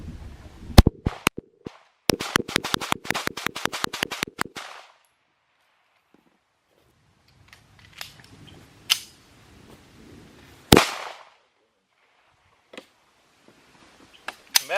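Rapid strings of sharp shots from a Tisas BR9 pistol during a high-round-count endurance test, a quick burst of about a dozen reports followed by pauses and scattered single shots, loud and close.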